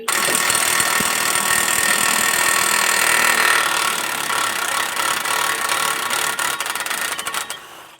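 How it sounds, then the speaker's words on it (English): An impact wrench works loose the nut on a Scion xB steering knuckle, a loud, close, continuous buzzing hammer lasting several seconds before it tapers off and stops. "using this impact wrench should come off"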